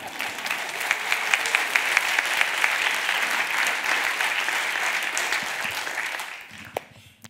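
Audience members clap dense, sustained applause at a talk on rapping, with a few sharp individual claps standing out. The clapping fades out over the last second or so.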